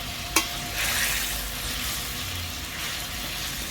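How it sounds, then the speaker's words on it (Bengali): Fried pointed gourd pieces go into boiling mustard-poppy gravy, with a brief clatter followed by a steady bubbling sizzle and stirring, close and fairly quiet. "এবার এতে আমি ভেজে রাখা পটলগুলো দিয়ে দেব।"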